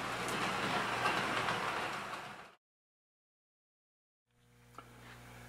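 Rumbling, clattering run of a small S-gauge model train on an automatic DC reversing shuttle track, cutting to silence during a delay, then a softer rolling sound resumes with a brief click.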